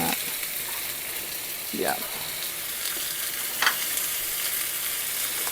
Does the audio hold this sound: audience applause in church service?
no